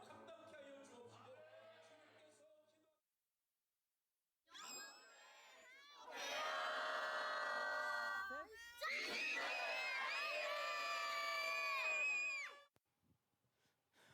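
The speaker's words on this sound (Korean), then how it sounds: "마지막에 비명 지른 건 제 딸인 것 같은데 멘트를 하랬더니 비명을 지르네요." Church congregation voices rise into loud cheering and screams, including a girl's high scream, in bursts after a quieter spoken start and a pause, ending abruptly.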